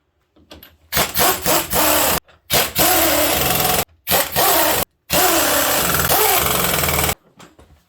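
Loud, close bursts from a power tool putting the wheels back on a Chevy S10, several rattling runs of about a second or two each, broken by short silences and ending in one long run.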